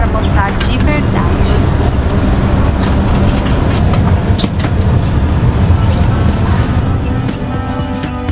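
A new Istanbul airport metro train rolls along the rails with a steady loud rumble and rhythmic clatter throughout, heard from inside the carriage.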